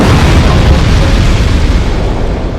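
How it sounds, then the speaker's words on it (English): A loud, sustained explosion in Dark Souls 2 fills the space with a dense roaring rumble that slowly fades, with no voices over it. "causes an explosion, kills enemies"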